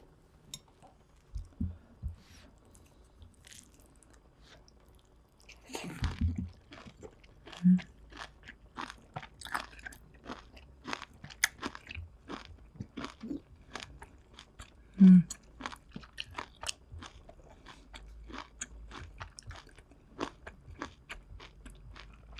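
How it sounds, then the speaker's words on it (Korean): Close, soft chewing of tender dried radish greens from a spicy pork back-bone stew, with repeated wet bites and munching in a steady rhythm and two brief louder low thumps partway through. "일단 우거지가 얼마나 부드러운지 먹어볼게요"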